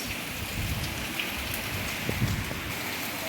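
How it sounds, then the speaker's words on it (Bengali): During Cyclone Remal, rain falls without pause, a moderately quiet, even patter and hiss with occasional heavier drips on nearby surfaces. "অনবরত বৃষ্টি হয়েই চলছে হয়েই চলছে থামার তো নামই নেই"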